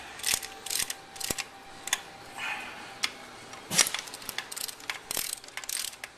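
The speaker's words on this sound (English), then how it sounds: "you use a wrench, and I'm going to snug them down first and do a final tighten afterwards" A wrench snugging down the studs on a car carburetor, a string of close, quick ratcheting clicks in short bursts separated by brief pauses, with no talking.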